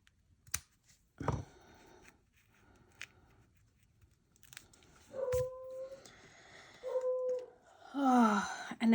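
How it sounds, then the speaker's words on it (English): Several pet dogs whine and yip in a quiet indoor craft room, short high howling calls rising near the end after a few isolated clicks and knocks. "Oh, and now my dogs are joining in on the fun."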